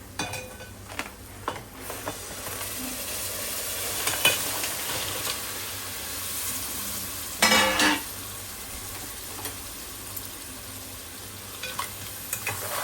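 Crabs from a tidal creek, cooked Agri-Koli style, tossed into simmering masala, sizzling steadily in the pan while a spoon stirs and scrapes, with a louder burst of hiss midway and occasional clinks.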